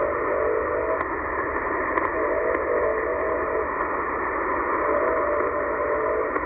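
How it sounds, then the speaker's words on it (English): A shortwave channel marker, likely the Chinese station XSG near 12637 kHz, beeps faintly in a Morse-like pattern over steady static hiss, with short tones at regular intervals through the noise. "Almost sounded like Morse code. Oh, it's a channel marker."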